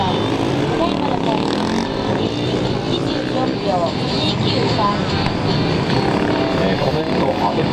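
A Suzuki DR-Z400SM supermoto motorcycle rides a course at a 2015 Dunlop MotoGymkhana round. Its engine drones steadily throughout, partly masked by continuous announcer commentary in Japanese.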